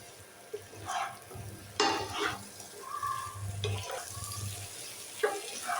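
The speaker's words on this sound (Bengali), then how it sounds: "মশলার সঙ্গে ওলটা নেড়ে চেড়ে ভালোভাবে মিশিয়ে নেব।" A spoon stirs chunks of elephant foot yam and potato with spices in a pan, giving soft scraping and sizzling sounds in a few uneven strokes, quiet and close.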